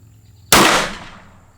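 A single sharp, loud gunshot from a Smith and Wesson 629-4 .44 Magnum revolver with a 6-inch barrel and scope, firing 240 grain reloads outdoors, with a sudden blast that decays over about a second.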